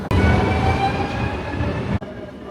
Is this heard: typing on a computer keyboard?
no